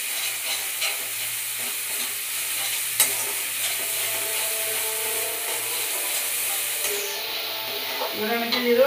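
Ginger, garlic and cumin sizzle in hot oil for a desi chicken curry while a utensil stirs and scrapes the pan, giving a continuous close frying hiss broken by rhythmic stirring knocks.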